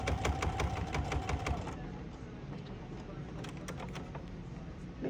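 Sewing machine running in a sewing shop, a rapid ticking stitch for about two seconds, then quieter mechanical rattle and handling noise.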